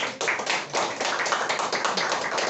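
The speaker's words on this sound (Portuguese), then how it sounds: "Palmas ao Senhor Jesus." A church congregation claps for Jesus at a service, a dense, steady wash of many hands close and loud with no pause.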